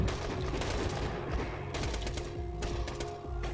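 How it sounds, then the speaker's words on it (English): A Borderlands 2 shootout, with rapid rattling gunfire crackling nearly nonstop in quick bursts, close and loud, layered with thuds and impacts. "I'm getting hit while shooting people."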